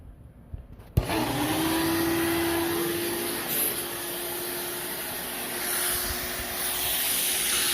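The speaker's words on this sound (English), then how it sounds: "We're about to really suck this solder out." A desoldering pump sucks molten solder away with a sharp snap, followed by a steady hissing, whirring drone that holds for several seconds at close range.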